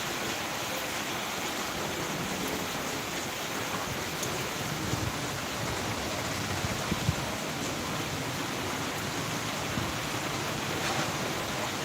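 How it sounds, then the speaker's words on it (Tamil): Heavy rain falls steadily in Tirunelveli, a dense, even hiss of downpour with no breaks, moderately loud and unaccompanied by speech. "அப்படியே மழை பெய்யுது நல்ல மூட்டமாக இருக்குது"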